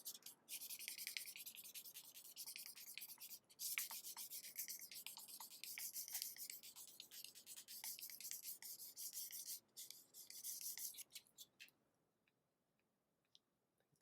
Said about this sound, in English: we will use the smooth sandpaper.